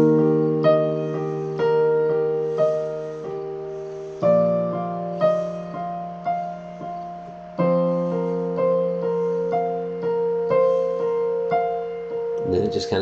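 Piano playing the intro of a song at a slowed-down tempo, steady sustained chords with a clear repeating melody, close and alone for about thirteen seconds.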